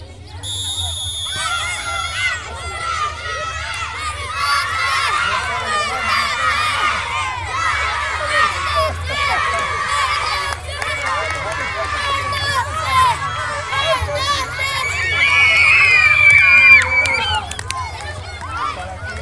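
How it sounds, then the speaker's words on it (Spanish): Crowd of young primary school children at an outdoor school sports event, shouting and cheering in a lively babble that swells toward the end, with an adult voice calling out over it. "Hagan su barra, hagan su barra."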